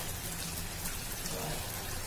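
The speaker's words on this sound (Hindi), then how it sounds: "एक एक करके बॉल हमें इसमें डाल देना है।" Veg Manchurian balls, dropped all together into hot oil, fry with a steady, dense crackling sizzle that holds at an even level throughout.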